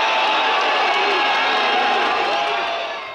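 A large, agitated crowd of mourners at a public viewing mills and shouts as security struggles to hold them back, a loud continuous roar of voices and cheering that fades slightly toward the end.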